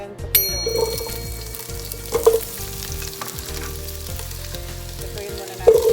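Carrots and potatoes sizzle and fry steadily in hot cooking oil in a pot, a continuous crackling hiss with occasional louder spatters and stirring clinks.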